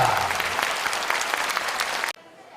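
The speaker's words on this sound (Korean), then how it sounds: "여러분 다시 한번 큰 박수를 부탁드리겠습니다" Audience applause at a constituency meeting held by a National Assembly member in Seo-gu, Incheon, a dense burst of clapping with faint voices that cuts off abruptly near the end, leaving quiet.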